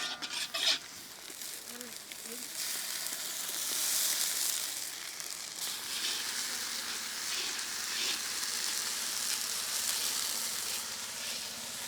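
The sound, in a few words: onions with ginger garlic paste frying in oil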